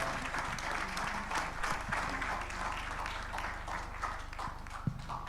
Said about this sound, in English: Let's give a round of applause, ladies and gentlemen.